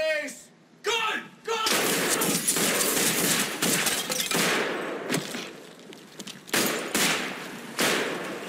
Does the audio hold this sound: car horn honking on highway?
no